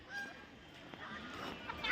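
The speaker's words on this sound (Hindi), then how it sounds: "बत्तख का आवाज़ इतना मस्त है यहाँ पे।" Waterfowl at a lake honk and call a few times, faint and a little distant, over quiet outdoor background.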